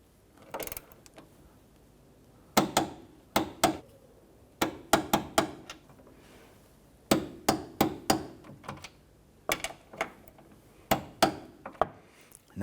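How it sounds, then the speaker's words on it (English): Torque wrench tightening the upper strut on a 2011-2015 Kia Sorento, giving a series of sharp metallic clicks and ratchet ticks in irregular bursts, close and fairly quiet. "Let's torque down our upper strut to 43 foot-pounds."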